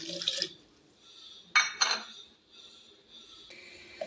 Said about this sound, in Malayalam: കുറച്ച് വെള്ളം നമുക്ക് ഒഴിച്ചു കൊടുക്കാം